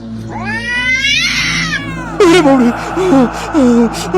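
A black cat lets out a long, drawn-out meow followed by several shorter, wavering yowls, loud and close.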